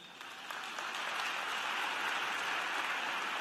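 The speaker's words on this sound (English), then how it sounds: "Please give all of them a round of applause." Steady, dense applause from a commencement audience at a university graduate and professional ceremony, swelling slightly then holding a continuous, moderately distant wash of clapping.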